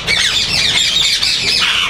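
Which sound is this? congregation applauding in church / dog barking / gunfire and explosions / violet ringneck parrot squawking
violet ringneck parrot squawking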